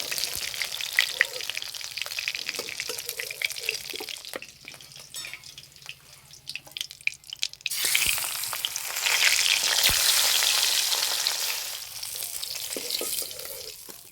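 Onion frying in oil in a pan for a village-style Bengali snakehead fish and gourd-leaf curry, a steady sizzle with running-water noise partway through that swells louder and broader near the end, no talking.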